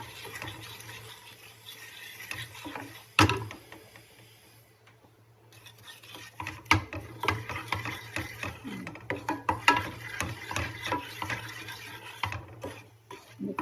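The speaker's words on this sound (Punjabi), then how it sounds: "ਹੁਣ ਹਲਦੀ ਨੂੰ ਥੋੜਾ ਜਿਹਾ ਭੁੰਨਣਾ" A utensil stirs turmeric roasting in a pan over low heat, giving soft scraping and clinking strokes with a sharp knock early on, a brief lull, then a busier run of scrapes.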